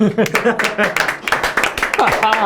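Hand clapping mixed with lively talk and laughter among a few people close by, with irregular claps scattered under the voices.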